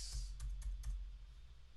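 A few quick, faint keystrokes on a computer keyboard as a file name is typed, then a quiet pause with low background hum.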